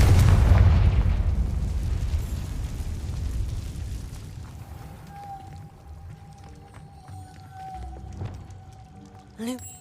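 Spell blasts from the Confringo fire spell in Hogwarts Legacy: a loud booming explosion at the start fades into rumbling debris, with a steady magical tone and scattered crackles, and a small burst near the end.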